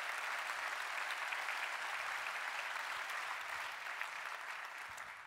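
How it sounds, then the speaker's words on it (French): A conference audience applauds after a speaker, sustained dense clapping filling the hall at a steady level, tapering slightly toward the end. "on peut applaudir bien sûr"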